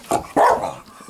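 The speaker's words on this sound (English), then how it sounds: "Oh, the dog?" A dog barks close by, two sharp barks in quick succession, the second longer and louder, with no talk.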